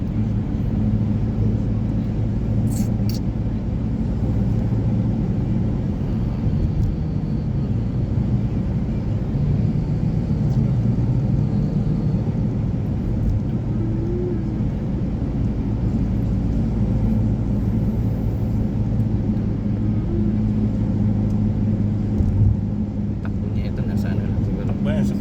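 Continuous low road rumble and engine drone inside a car cruising slowly on a highway past a toll gate toward Pasay City, steady and loud throughout, with a couple of brief clicks and no speech.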